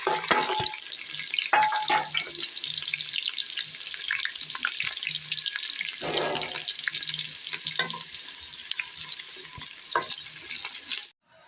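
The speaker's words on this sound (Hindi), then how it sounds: "ऑयल हमारा गर्म हो चुका है माशाल्लाह। अब हम इसमें प्याज ब्राउन कर लेंगे।" Onions browning in hot oil for beef nihari, a loud close sizzle and crackle running continuously, with bursts of stirring and scraping in the pan, then cutting off abruptly near the end.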